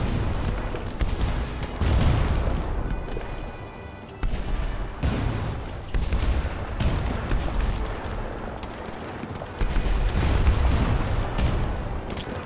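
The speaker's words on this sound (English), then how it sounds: "Cannons! Fire at will! They're firing on us!" Ship cannons fire in the airship combat video game Airships: Kingdoms Adrift, a series of heavy booming volleys spaced every couple of seconds, loud and punchy with no voices over them.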